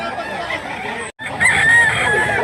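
A white-legged rooster of about 2 kilograms crows loudly and close by, a long drawn-out call with a short gap partway through, over a busy background.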